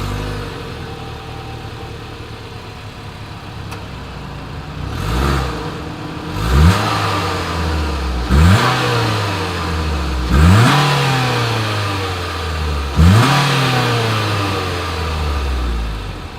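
A 2020 Mitsubishi Outlander Sport idles, then its exhaust is revved five times in a row, each rev rising sharply and falling back to idle, loud and close with no talking.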